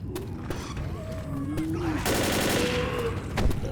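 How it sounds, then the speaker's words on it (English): Quick bursts of gunfire crackle repeatedly in the background of Left 4 Dead, sharp pops scattered among mechanical clicks and muffled noise. "Still hear gunfire in the background."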